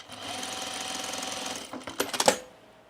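A sewing machine runs steadily while stitching a sunblock top, giving a rapid, even mechanical whir, then breaks into a few short bursts and clacks before stopping, close and alone.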